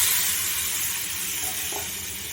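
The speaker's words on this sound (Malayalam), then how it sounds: "ഇനി നമുക്ക് ഇതിലോട്ട് നമ്മുടെ തക്കാളി ഇട്ട് കൊടുക്കാം" Tomatoes going into hot, sizzling spice powder in a pan while a Kerala varutharacha rasam is cooked; a loud, continuous frying hiss fills the short stretch, with no voices.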